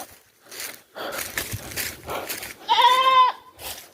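A goat on a banana farm flattened by a strong whirlwind lets out a single clear, close bleat, preceded by rustling and footsteps.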